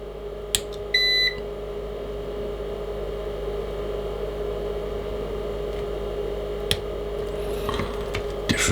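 A multimeter continuity test beeps once, short, high and steady, over a constant low hum while testing a Drake TR7 radio, followed by a few faint clicks.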